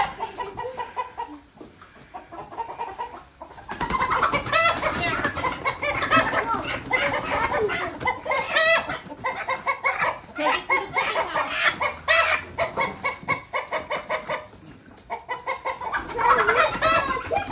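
Chickens and a rooster cluck and squawk in a barn on a family dairy farm, a busy, close flurry of repeated clucks and agitated calls that keep going throughout.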